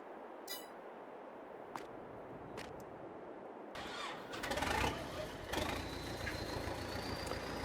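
A tractor engine in Farming Simulator 22 cranks and catches after a few faint clicks and pings, then settles into a louder running rumble with a rising whine.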